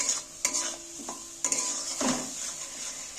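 Spice paste for pressure-cooker aloo dum being stirred and fried in a pan, with steady close sizzling and several scraping clanks of a spoon against the pan, no talk.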